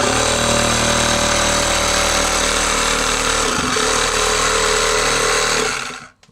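Power saw cutting along an attic joist while fixing a leaking home AC, a loud continuous motor whine with a steady blade drone that dips briefly midway and cuts off at the end.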